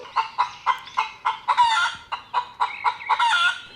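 A chicken clucks and crows in a quick, steady run of sharp calls, loud and close with no other sounds.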